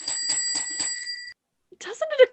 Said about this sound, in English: At least we'll try the bell once more